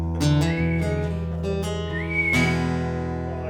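A person whistles a few short, wavering notes over sustained tonal music, the whistling thin and intermittent.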